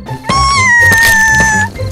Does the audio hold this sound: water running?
no